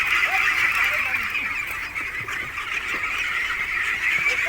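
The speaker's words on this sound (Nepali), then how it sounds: "हाम्रो आकाश अङ्कलले हाँस पाल्नु भएको रहेछ" A flock of farm ducks quacks and honks continuously, close and fairly loud, their overlapping calls forming a steady chattering din.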